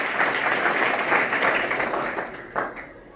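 Children in a classroom session break into brisk, loud group clapping that holds steady and then tapers off, with a few scattered claps near the end.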